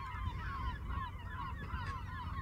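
Seabirds, gulls and cormorants, call near a rocky islet, a steady chorus of honking cries at moderate distance with no speech.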